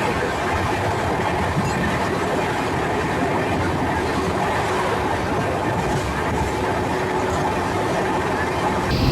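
The Saptagiri Express from Chennai to Tirupati rolls along with a loud, continuous rumble and rattle of wheels and carriages, heard from inside the coach, steady from start to finish.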